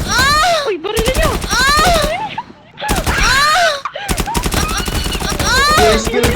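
Rapid machine-gun bursts rattle back and forth in a GTA-style roleplay game crossfire, loud and near, with dense volleys broken by brief pauses and shouting voices over the shooting.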